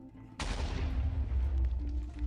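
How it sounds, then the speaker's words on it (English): Explosions in the Minecraft video game on a multiplayer server: a sudden loud blast onset followed by a sustained rumbling, crackling roar that continues steadily at close range. "Now there's exploding sounds."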